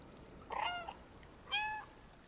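Two clear meows from a cat in the video game Stray, each a short harmonic call about a second apart, close and distinct over a quiet background.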